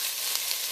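Onions fry in a pan while being stirred, a brief, soft and steady sizzle with a couple of faint ticks.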